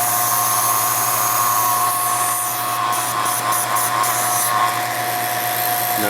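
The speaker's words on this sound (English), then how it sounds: "Flip the pump on." A vacuum pump runs steadily on the AC system of a 1994 Saab 9000, a loud, constant whine with a low hum beneath, nearby and unbroken throughout.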